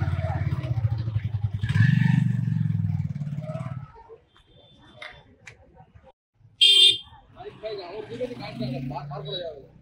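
A motorbike engine at a rural vegetable market, a close low rumble under a voice that cuts off, followed by quieter street noise, a brief sharp clatter and more talk.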